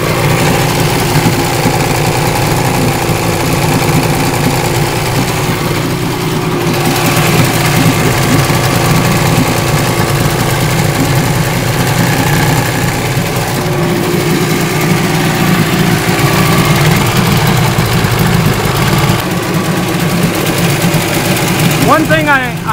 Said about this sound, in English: with the pink module over on this side, it idles a lot better